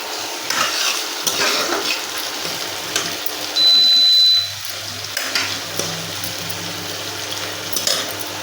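Chopped onions sizzle in oil in a pan for a mutton and potato curry while a utensil stirs and scrapes against the metal, a steady crackling broken by brief clanks, with no talk.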